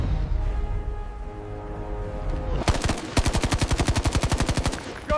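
Automatic gunfire in a film battle scene: a single burst, then a long, rapid, evenly spaced string of loud shots rattling close by with no talk over it.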